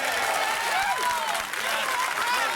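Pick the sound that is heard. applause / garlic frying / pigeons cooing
applause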